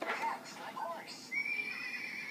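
A voice imitates a horse's neigh, a rising and falling whinny held close to the listener, followed by a thin sustained tone.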